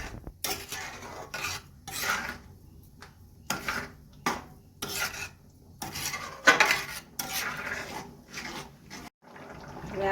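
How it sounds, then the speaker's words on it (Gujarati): Carrot halwa simmering in milk in a pan is stirred with a utensil, giving repeated scraping, rasping strokes against the metal with short pauses between, close and fairly loud, with no talking. "આ રીતે આપણે હલાવતા રહીશું."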